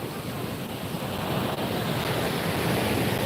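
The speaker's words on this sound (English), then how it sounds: "Those waves sound louder than they did an hour ago." Heavy ocean surf pounding a beach at night makes a continuous, loud roar of breaking waves, with wind buffeting the microphone throughout and no talking.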